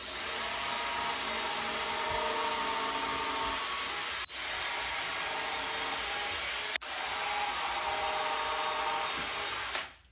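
Power drill boring pilot holes into pallet wood for a raised garden bed, a loud continuous high whine that runs steadily, briefly cutting out twice before spinning up again and stopping at the end.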